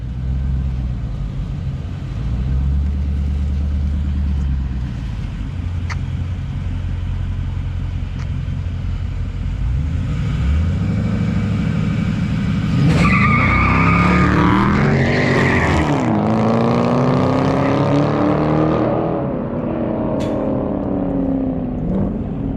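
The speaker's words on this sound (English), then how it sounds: "You're spinning big time." A 2020 Dodge Charger Scat Pack Widebody on 305 or 315 tires roars through a launch, tires spinning and squealing loudly for several seconds as the engine revs climb and ease, close up with no talk.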